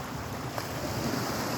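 Early-morning surf at Bitadton Beach Front in Culasi, Antique, near rice fields and mountains, rolls as a steady broadband wash with wind buffeting the microphone and no distinct breaking crashes.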